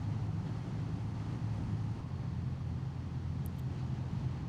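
A BMW R12 nineT motorcycle ridden on roads near Burbage, heard as a steady, wind-buffeted drone of engine and road noise that stays even throughout, with no voices.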